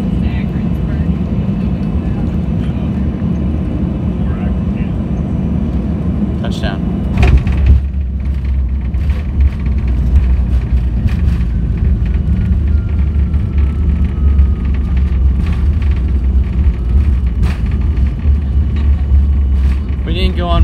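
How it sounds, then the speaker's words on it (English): A Dornier 328 jet lands and taxis at Cincinnati's Lunken Airport, heard from inside the cabin as a loud, steady engine roar with low rumble, a jolt near touchdown and a continuous drone afterward. "we're on short final into the Cincinnati Lunken Airport"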